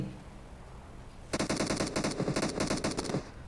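Rapid automatic gunfire in a video game rattles out in a dense burst of shots lasting about two seconds after a quiet lead-in, crisp and fairly close.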